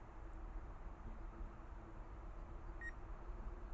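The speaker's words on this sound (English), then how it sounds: "Starting to get a little bit of obstacle avoidance beep there" DJI Inspire 3 drone sounding a short obstacle-avoidance beep near the three-second mark, a brief high electronic tone over a steady whirring hum of rotors and wind.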